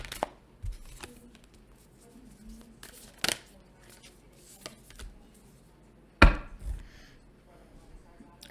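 A tarot deck is shuffled by hand at close range, giving soft scattered riffles and taps and one sharper snap of cards near the end, all fairly quiet.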